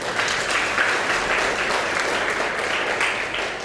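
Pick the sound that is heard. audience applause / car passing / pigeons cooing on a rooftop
audience applause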